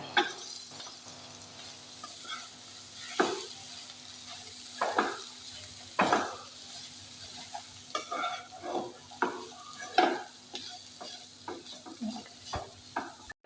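Shredded cooked chicken is stirred into a meat filling for irachi pathiri in a hot pan, with steady soft scraping and stirring over a faint sizzle and occasional sharper spoon knocks.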